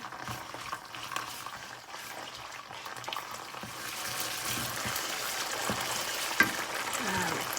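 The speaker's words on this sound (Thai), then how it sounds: "เครื่องแกงต้องผัดด้วยน้ำมันมากหน่อยจ้ะ" Curry paste stir-fries in plenty of oil with crisp-fried salmon scraps, giving a continuous sizzle and crackle with occasional scraping stirs that grow louder and busier partway through.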